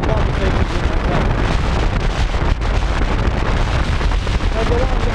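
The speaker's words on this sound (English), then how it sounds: "Whoa, that wind is strong, man. Almost blew me off the bike." Strong wind roaring across the microphone while riding a bike uphill, a loud, constant, close buffeting rush that fills the whole clip and covers everything else.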